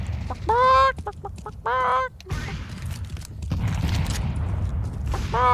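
Chicken clucking in the game CS2, several loud close squawking calls in short bursts over a background of gunfire and game noise.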